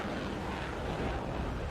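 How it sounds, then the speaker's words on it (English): Su-33 Flanker D jet with twin AL-31F3 afterburning engines, flying at the Sochi airshow in 2020, producing a steady, loud, broadband engine roar that holds constant throughout. "The two AL31F3 afterburning engines."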